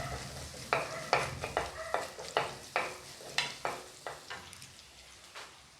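Garlic and ginger sauté in a pan for a prawn curry, a soft sizzle broken by a regular series of spatula stirs and scrapes, close but quiet, with no one speaking.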